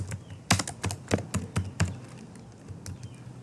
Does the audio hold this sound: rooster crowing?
no